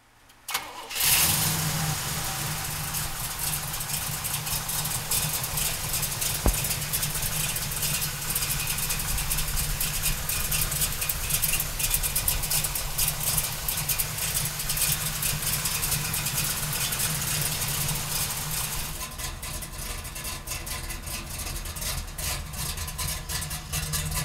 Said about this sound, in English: We're gonna pop the hood and fire up that 396.